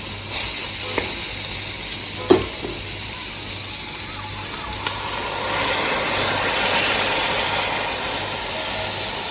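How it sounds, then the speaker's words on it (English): Coconut milk cooks in a pot of Jamaican seasoned rice, giving a continuous close sizzling and bubbling with a few soft clinks of stirring, swelling slightly toward the end. "I'm throwing our coconut milk now, guys. So I'm putting our milk."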